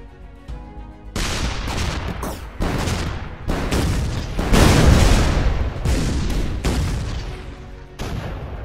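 In the artillery game ShellShock Live, a banana weapon's shot sets off a string of loud blasts, several booming bursts one after another with short gaps and a heavy rumble between them.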